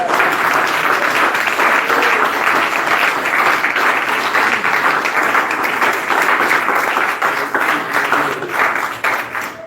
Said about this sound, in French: Applaudissez pour vous avant le coup.